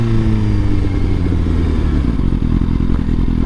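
A 2019 Suzuki GSX-R 1000R's engine roars loud and close throughout, its deep rumble broken by rapid clattering pulses as the revs shift during downshifts.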